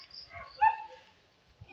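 A dog in a residential subdivision gives a short bark followed by a brief yelp, faint and somewhat distant against a quiet background.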